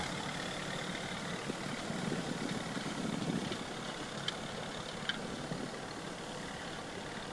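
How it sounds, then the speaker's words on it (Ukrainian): A vintage mini tractor engine pulling a rotary plough runs steadily with a dense, rough drone and clattering texture, occasional faint clicks, heard outdoors at moderate distance without talk. "бачимо такий міні-тракторець. І я так розумію, він орає роторним плугом."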